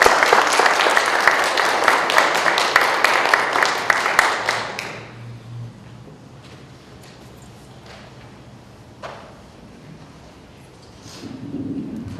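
An audience applauds to welcome a historian lecturing in El Paso, loud and sustained clapping that fades out after about five seconds, leaving a quiet room with faint shuffling.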